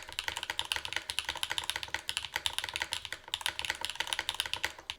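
Fast, steady typing on a wooden prototype keyboard fitted with long pole switches, each keystroke a loud, crisp clack in a dense continuous run, close up with no talking.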